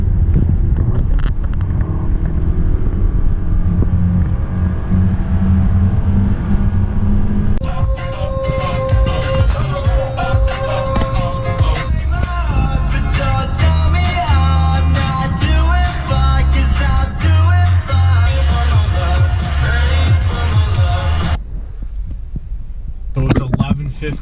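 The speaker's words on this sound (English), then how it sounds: "So gonna do a little highway pull here." A car accelerates hard along a highway, its engine drone swelling into a loud, steady roar with tonal whine and rushing wind noise throughout.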